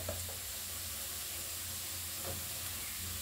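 Coriander powder and spices sizzle as they are stirred in a pan, a soft continuous hiss with faint scraping strokes, quiet and close, no voices.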